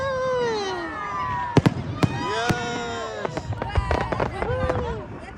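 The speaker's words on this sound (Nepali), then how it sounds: "फायर वर्क सुरु भयो अब अरेन्जमा।" New Year fireworks in Orange, NSW: whistling rockets rising, then several sharp bangs and crackling bursts at moderate distance, with people talking and exclaiming nearby.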